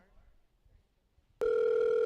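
A phone ringtone rings during a call: a steady, loud electronic tone starts suddenly after quiet low murmuring and keeps sounding to the end.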